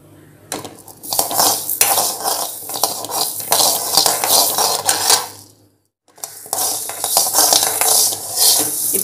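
Rice and black urad dal dry-roasting in a pan, with steady scraping, rattling and clinking of a spoon against metal, close and fairly loud, broken by one short pause before the stirring resumes.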